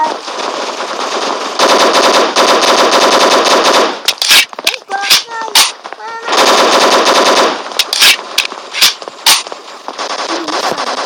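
Gunfire in the blocky first-person shooter game Block Strike, loud sustained automatic bursts alternating with rapid single shots and clicks, repeated several times over about eleven seconds.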